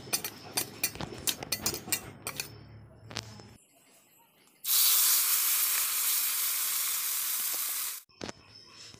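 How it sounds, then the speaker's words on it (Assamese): Fish coated in turmeric and salt fries in a wok, breaking into a loud, steady sizzle that lasts several seconds and then stops abruptly, after quieter clinking and kitchen handling sounds. "এইফালে মাছখিনি ফ্ৰাই কৰি হৈ গ'ল"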